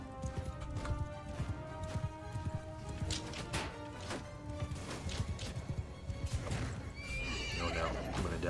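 Horse in a video game neighs and whinnies with quick clip-clop galloping hooves, loud and close over busy game effects and music, with some talk mixed in.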